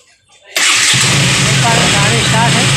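A KTM Duke 200 BS6 motorcycle with an idle fault and fluctuating RPM cranks and fires up after a brief quiet, then settles into a loud, steady close-up idle.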